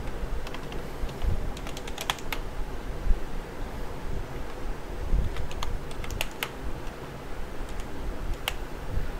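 Typing on a computer keyboard while entering business account details for a Gmail recovery, with clusters of quick clicky keystrokes separated by short gaps over a constant background hiss.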